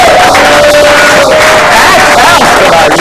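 Loud crowd noise fills the Ox Bar and Grill on Coastal Highway in Ocean City, with whoops and cheering blending into steady applause from a packed room, and a sustained tone running beneath it.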